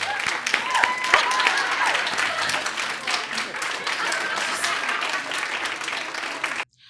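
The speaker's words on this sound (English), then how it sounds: "Can we just get a big round of applause for Leigh?" Sustained, dense applause from a studio talk-show audience for a guest named Leigh, loud and steady for several seconds before cutting off abruptly.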